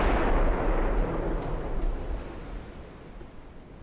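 Naval artillery fire from an 1890s-era Italian fleet battle in Ultimate Admiral: Dreadnoughts, a heavy low rumbling boom that opens loud and rolls off slowly into a sustained fading roar, with no voices.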